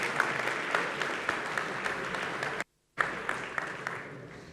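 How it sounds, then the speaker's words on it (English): A programming contest closing ceremony (SWERC 2021-2022) fills with steady audience applause after medal announcements, a dense even patter that cuts out abruptly for a moment before resuming at the same level. "So, a round of applause."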